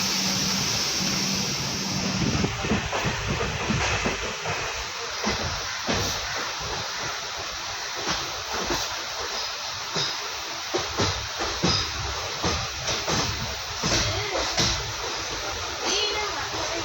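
A train stands at Royapuram railway station in Chennai, giving off a continuous hiss and low rumble throughout. Voices, including a child's, talk over the steady noise.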